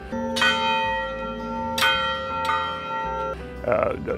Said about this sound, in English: we not only automated the bells, and we got 3 bells